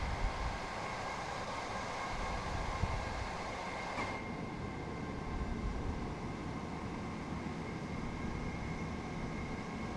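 A train engine runs in the Train Sim video game on the Brighton to Eastbourne route, a steady droning rumble with a continuous hum at speed, with no talk over it.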